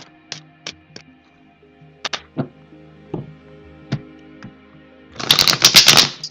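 Scattered tarot card snaps and taps lead into a quick, dense riffle of shuffling cards near the end, close and crisp with no talking.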